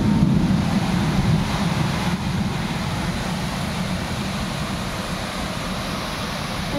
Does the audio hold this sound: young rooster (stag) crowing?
no